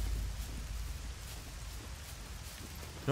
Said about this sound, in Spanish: Claro, es que con la lluvia no te escuchan.